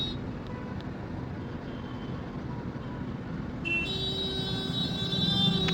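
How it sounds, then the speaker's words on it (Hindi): A JCB backhoe eases slowly backwards through jammed city traffic, a low steady engine rumble carrying a sudden bright warbling beep pattern that starts partway through and continues to the end, with road noise all around. "जेसीबी वाले भैया धीमे धीमे गाड़ी को निकालते हुए"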